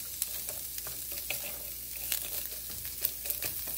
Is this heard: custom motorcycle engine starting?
no